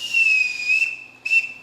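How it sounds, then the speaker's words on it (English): A ship captain's sharp whistle is blown to summon people in a stage musical: a long high blast, then a shorter second one, loud and close, with nothing else heard. "I can't bear being whistled for."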